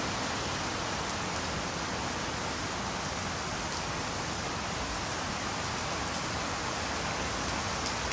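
Steady rain pours continuously on a stormy day, a dense, loud, unbroken hiss with no voices.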